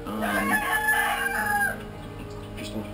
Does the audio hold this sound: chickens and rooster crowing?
yes